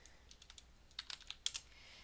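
Quick, light keystrokes on a computer keyboard while working in Excel, a scattered run of faint clicks and taps with a few sharper presses near the end, fairly close.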